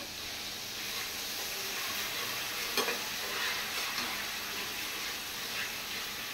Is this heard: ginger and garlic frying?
yes